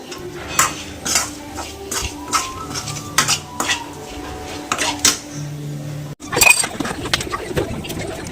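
Dishes and pots clink and clatter repeatedly at close range, metal knocking in irregular bursts with scraping between them.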